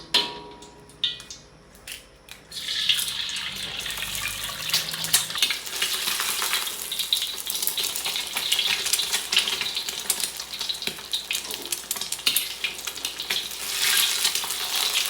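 An egg fries in cooking oil in a pan, with a steady close sizzle and crackle that starts after a quieter opening and holds through to the end, with no voices.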